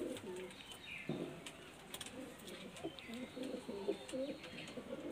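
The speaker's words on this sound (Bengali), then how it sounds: "এই হচ্ছে নর মেল পায়রা।" A male pigeon coos softly in repeated low, rolling phrases, faint and close, with a few light chirps and small background noises between them.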